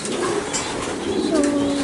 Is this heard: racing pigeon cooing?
yes